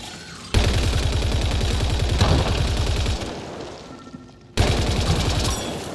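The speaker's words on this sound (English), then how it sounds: "Go ahead and shoot the rock or something" Sustained rapid automatic gunfire in the sci-fi game Mass Effect Andromeda, aimed at a rock: loud, close, evenly spaced shots in long bursts broken by short pauses.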